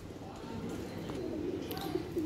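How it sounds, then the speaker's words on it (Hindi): A Kaldumа Kalpara breed pigeon coos softly in a few low, rolling notes, fairly faint against background noise, with someone talking quietly nearby. "ये कलदुमा कलपरा कबूतर है"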